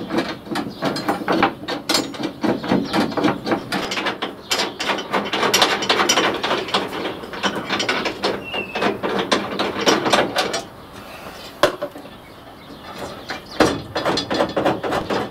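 A 19mm spanner ratcheting on welded bolts and nuts, with fast continuous metallic clicking bursts close up that pause briefly near the end and then resume.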